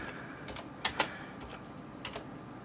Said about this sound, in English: Let me just type that in.